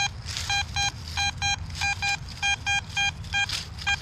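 A metal detector sweeping over a live target at a WW2 camp site gives repeated bright electronic beeps in short regular pulses, loud and close, over faint outdoor background.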